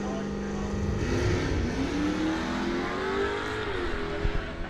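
A Nova and a Mopar drag racing car rev and accelerate at a drag strip, their engine note rising and sweeping in pitch at moderate distance, with an announcer talking over them.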